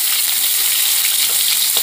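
Sliced shallots are stir-fried in a pan for sambal with spring onion, giving a loud, close, continuous sizzle and crackle with faint stirring, and no voices.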